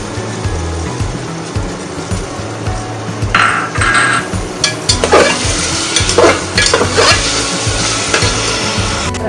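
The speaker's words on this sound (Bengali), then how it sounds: "এবার এই মটরটা ঢেলে দেব।" Peas are poured into a pan of oil with onion, chili and salt, then stir-fried, so a soft background sizzle gives way to busy scraping and clattering of the spoon against the pan.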